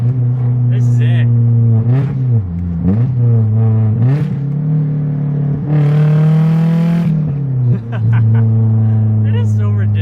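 A loud Nissan S13 engine runs close by while the car drives, with a steady low drone rising and falling through a few revs and one brief, harsher surge in the middle, and people talking over it.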